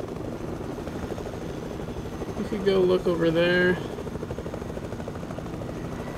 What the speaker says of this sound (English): I mean, we have a helicopter, so we can move pretty quick.